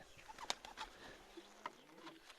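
Pigeons coo softly and low, with scattered short chirps and faint rustling nearby; no one speaks.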